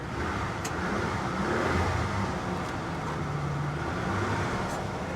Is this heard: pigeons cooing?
no